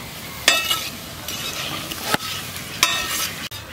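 Pakoras fry lightly in a pan with a continuous close hiss, broken by a few brief clattering knocks and scrapes of a utensil, with no one talking.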